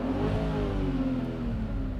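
An Audi C5 RS6 engine revs up steadily to a high, sustained whine at max revs, close and loud, with no talking.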